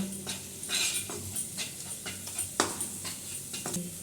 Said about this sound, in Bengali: দিয়ে এবার আমি ভালোভাবে নেড়ে নেব